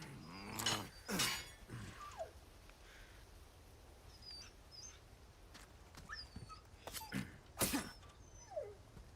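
A dog in the video game Resident Evil 4 Remake whimpers and yips in a string of high, thin cries and short yelps, moderately close, with quieter gaps between them.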